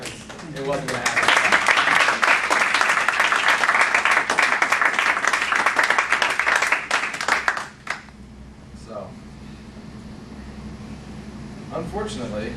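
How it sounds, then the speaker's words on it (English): An audience at an end-of-year celebration gives a round of applause: a thick, sustained burst of many hands clapping that swells, then fades out, leaving a quiet room with faint rustling and a low hum. "Let's give him another round of applause for setting all this up."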